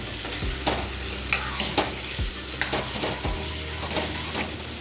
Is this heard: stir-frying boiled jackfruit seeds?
yes